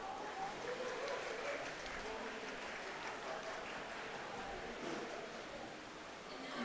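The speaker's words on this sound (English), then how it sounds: "And let's have a round of applause for Tara-san and Tateshi-san for their time" Broad, steady applause from a crowd at a Cardfight!! Vanguard card game world finals event, sustained evenly for several seconds at moderate distance.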